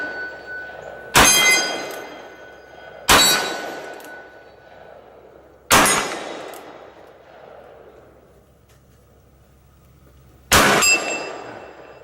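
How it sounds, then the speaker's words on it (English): Colt SAA revolver in .44 Special firing skeleton loads outdoors, four loud sharp reports spaced a few seconds apart, each followed by a decaying echo, with no talk. "We'll take some informal shooting, more of these skeleton loads."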